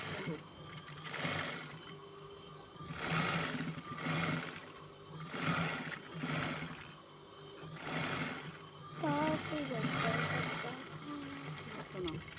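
Sewing machine stitching lace onto a frill, running in rapid mechanical whirring bursts that start and stop in a regular rhythm with short pauses between, close and clear, with voices briefly heard near the end.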